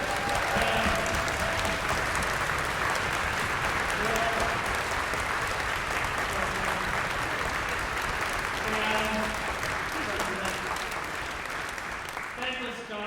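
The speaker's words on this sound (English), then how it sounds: "Can we please give a round of applause to all the board?" Sustained applause from a concert hall audience fills the whole stretch for the orchestra's board, dense steady clapping at an even level that fades slightly toward the end.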